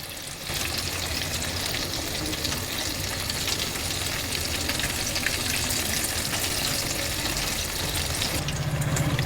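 KFC-style breaded chicken fingers fry crispy in hot oil over medium heat. The oil gives a steady, dense crackling sizzle that runs unbroken from start to finish, close and alone with no talk.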